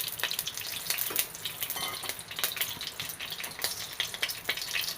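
Coconut oil hitting a hot pan sets off an ongoing crackling sizzle with irregular sharp pops, close and fairly loud, with no voices.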